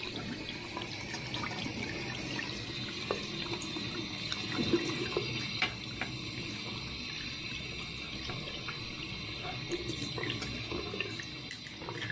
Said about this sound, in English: Just run a bit of water through it.